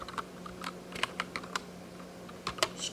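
Quiet, irregular clicks of fingers pressing the hard rubber keys of a ZX Spectrum computer keyboard, close and alone, with short bursts and small pauses.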